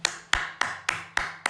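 Six sharp, evenly spaced hand claps ring out at a steady slow rhythm, close and crisp with no talk.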